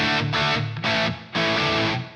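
Heavily overdriven chords from an Enya Nova Go Sonic electric guitar through a dirty amp model, loud and sustained, in three strummed bursts with brief gaps between them.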